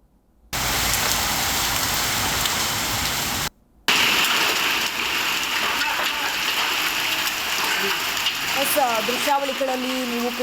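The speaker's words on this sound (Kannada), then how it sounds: "ಮಳೆಯ ಆರ್ಭಟ ಹೆಚ್ಚಾಗಿದ್ದು ಈಗ ಬೆಳಗಾವಿ ಜಿಲ್ಲೆಯಾದ್ಯಂತ ಜನಜೀವನವೇ ಅಸ್ತವ್ಯಸ್ತಗೊಂಡಿದೆ." Heavy monsoon rain pouring across Belgaum district, a dense, steady hiss of downpour on surfaces that cuts out briefly and resumes, with faint traffic noise in the background.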